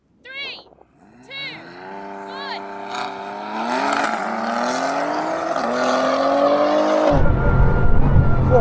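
A Bugatti Chiron launching in a drag race against tuned BMW M5 and M4 cars, its engine rising in pitch through the gears, with tire noise as it slides sideways and a voice talking over it near the start.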